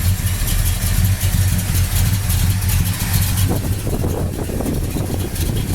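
A built 400 V8 in a 1968 Pontiac GTO convertible, fitted with headers, rumbles steadily at a loud, close idle with a deep low throb throughout.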